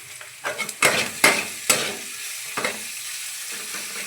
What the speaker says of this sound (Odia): ତ ତେଲ ଦେଇଦେବା। ମୁଁ ଅଳ୍ପ କିଛି ଜିରା ଦେବି ଏଥିରେ। ତ ଆମେ ପିଆଜ ପକାଇଦେବା।